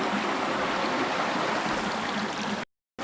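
A river stream rushing over eroding rocks, likely at Hundru waterfall, gives a steady, loud, close broadband wash of flowing water that runs unbroken for over two seconds before cutting to a brief silence.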